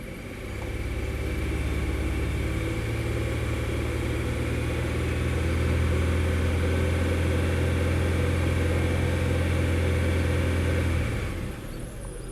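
A Buick V6 engine runs at a raised, steady speed, giving a loud, continuous close-up hum with an even low drone that cuts off near the end.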